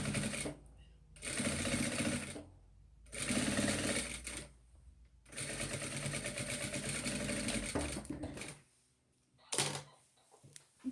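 A sewing machine stitches bias binding onto a hooded baby towel lined with a cloth diaper, running in several loud bursts of rapid stitching separated by brief pauses, with a short final burst near the end.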